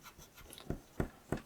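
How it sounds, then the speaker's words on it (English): Pencil drawing being lightly erased with an eraser, three short soft rubbing strokes in a slow even rhythm, close and quiet. "So just kind of lightly erase it."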